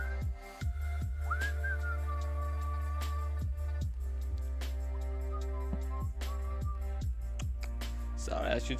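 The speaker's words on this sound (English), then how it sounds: "Sorry, I should stop whistling." Someone whistles a wandering tune with held and sliding notes during an online poker session, over a steady low hum and periodic clicks, fairly quiet and close.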